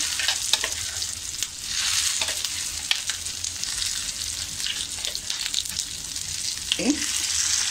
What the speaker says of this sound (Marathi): आता त्याच्यामध्येच मी हा जो वाटून घेतला होता टॅमॅटो कांद्याचा मसाला तो मी परतून घेणार आहे.